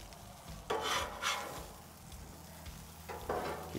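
Scallops, shrimp and asparagus sizzle on a Blackstone griddle, with two bursts of scraping and tossing against a steady low frying hiss, close and moderately loud.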